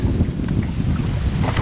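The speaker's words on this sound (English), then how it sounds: "windy, very windy up here today" Strong wind buffets the microphone aboard a fishing boat, a steady loud low roar with gusty rumble throughout and no speech.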